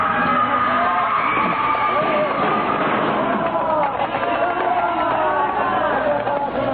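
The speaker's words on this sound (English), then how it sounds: "hysterical mob sweeps through the streets, driven on by the lashing whips of the mounted police" Hysterical mob sweeping through streets in a radio drama, a dense roar of shouting crowd voices and running feet, loud and continuous, with mounted police whips implied amid the turmoil.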